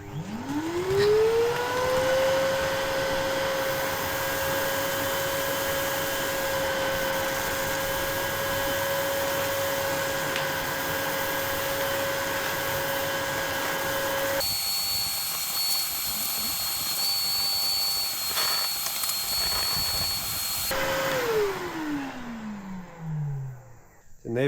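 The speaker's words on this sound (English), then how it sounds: "The neighbors might think I'm even more crazy, vacuuming snow." A vacuum cleaner sucks up snow outdoors and holds a loud, steady whine for most of the stretch. Its pitch shifts partway through, and the motor winds down at the end.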